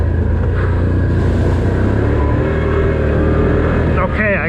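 Can-Am Outlander 1000R XTP ATV engine roaring steadily under load while climbing a very steep hill, a loud continuous rumbling drone close to the rider, with a brief rising whine near the end.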